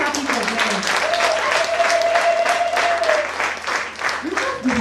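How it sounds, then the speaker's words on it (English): An audience at a youth workshop in Musanze claps steadily for pupils ranked first in school, a moderate crowd of hands under a voice talking across the applause. "Let's clap for them."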